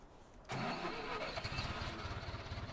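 An IMT 558 tractor engine in a video game mod cranks and catches within half a second. It settles into a loud, close, steadily pulsing idle with no talking.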